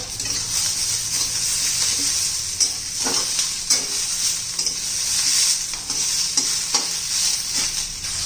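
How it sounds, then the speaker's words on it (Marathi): Onions and tomatoes being sautéed in a pan for a spicy village-style sandgе curry, a steady close sizzle with a spoon stirring and occasional scraping knocks throughout. "टोमॅटो चांगला मऊ होईपर्यंत आपण परतून घेणार आहोत"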